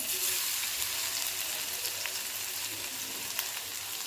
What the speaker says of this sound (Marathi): तेल गरम झालेलं आहे त्याच्यामध्ये आबडधोबड वाटलेला लसण टाकायचा